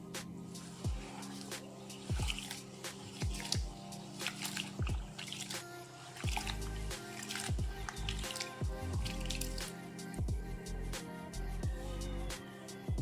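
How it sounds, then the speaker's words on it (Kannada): Quinoa and rice with fenugreek seeds are rinsed by hand in water, making repeated soft squishes and dripping splashes at an uneven rhythm, quiet and close, over faint background music. "ಈಗ ಇದಕ್ಕೆ ನೀರು ಹಾಕಿ 3-4 ಸಲ ವಾಶ್ ಮಾಡಬೇಕು ಚೆನ್ನಾಗಿ."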